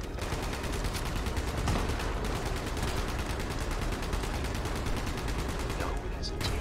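Rapid gunfire from a handmade rifle in Fallout 76, a dense continuous rattle of shots throughout.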